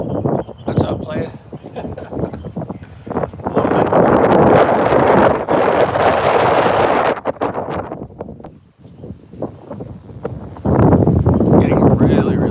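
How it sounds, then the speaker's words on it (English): Strong gusts of wind roar and buffet the microphone in waves, rising and falling over several seconds. "It's getting really, really windy out here."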